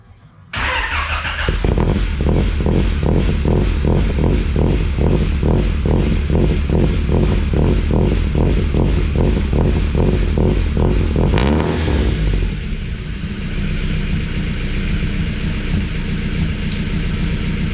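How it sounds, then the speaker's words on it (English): A Honda Civic with an H-series engine swap starts with a rumble, then holds a steady, throaty exhaust idle with a pulsing low beat, close by and loud throughout. "exhaust is a lot more quieter than I remembered. I mean, just on idle anyways."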